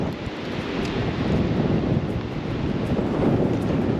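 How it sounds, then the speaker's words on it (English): Strong gale wind blows across open water during a bream fishing trip, roaring and buffeting the microphone in a continuous loud rush with no voices. "And listen to that wind."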